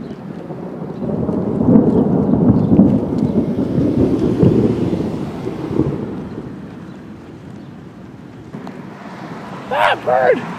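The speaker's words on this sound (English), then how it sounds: "Typically when there's thunder, it's a phase thing." Deep rumbling thunder rolls loud and close through a thunderstorm for most of the stretch, fading toward the end, where brief chirping sounds break in near the close.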